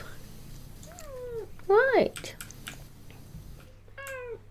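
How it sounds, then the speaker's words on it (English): A house cat meows repeatedly up close, several whiny rising-and-falling calls with one loud strained yowl in the middle, while a person speaks briefly nearby. "we had constant kitty noises for like an hour"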